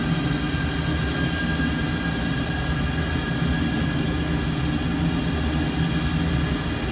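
Twin jet engines of an F-14 Tomcat at full military power in a flight game, a steady, loud, dense roar with deep low rumble holding unbroken throughout.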